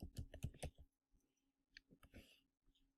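Quiet, rapid clicks of typing on a computer keyboard open the clip, then sparse soft taps and a brief voice follow at low level.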